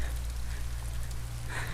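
Steady rain falls outdoors near a parked van, a dense, even hiss of drops with a low background rumble throughout.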